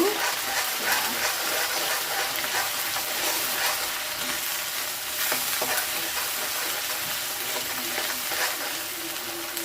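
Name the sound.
ginger and garlic frying in a pan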